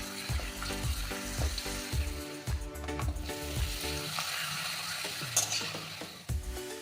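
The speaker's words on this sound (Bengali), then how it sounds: "এবার আমি 5টা এই সাইজের পাঁপড় মিডিয়াম আঁচে ভেজে নেব।" Papad frying in hot oil in a pan over medium heat, a steady close sizzle broken by regular dull taps and clinks of the utensil, with no talk.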